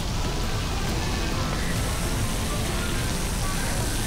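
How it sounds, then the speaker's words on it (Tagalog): Rain falls steadily outdoors during a Christmas walk in BGC, Taguig, a dense, even hiss of drops on surfaces that stays constant and fairly loud with no break. "May naulan dito."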